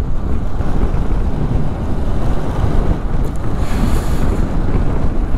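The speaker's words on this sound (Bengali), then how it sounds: "মানে এমন হাওয়া দিচ্ছে, মানে পারা যাচ্ছে না" Strong wind roars across the microphone during a ride on a heavily loaded KTM Adventure 390 on the road back towards Leh in Ladakh, a loud, constant buffeting rumble that drowns out everything else.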